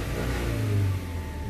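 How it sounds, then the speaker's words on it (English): A 2011 Subaru Legacy B4 2.5 GT saloon engine revs briefly, a close, steady mid-pitched engine roar that swells for a moment and then eases back. "Let me just rev it slightly."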